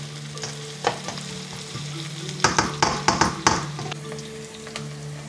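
Onions fry in a pan with a soft steady sizzle, broken by a cluster of sharp scraping clatters as they are stirred near the middle, with no voices.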